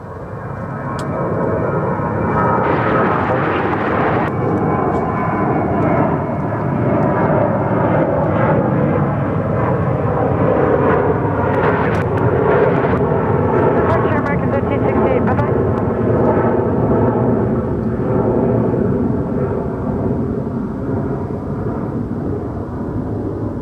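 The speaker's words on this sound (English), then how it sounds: "Takeoff 36 right, UPS on that, 58 heavy." A UPS heavy cargo jet rolls for takeoff on runway 36 right at Dallas–Fort Worth, its engines producing a loud, sustained roar that swells and holds steadily, with a voice speaking early on.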